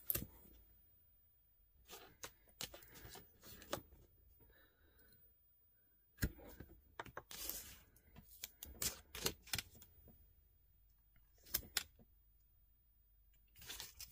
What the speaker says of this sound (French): Je vais mettre le scotch sur tout,